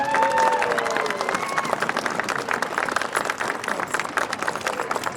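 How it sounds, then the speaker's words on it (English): An audience applauds at an outdoor school renovation topping-off ceremony, a loud burst of many hands clapping with some cheering at first that settles into steady clapping. "Let's give him a round of applause."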